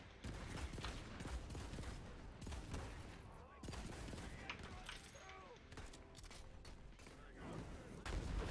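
Pistol gunfire in a video game while a large machine is being fixed, loud dense shots overlapping with other in-game battle noise throughout, with occasional talk underneath.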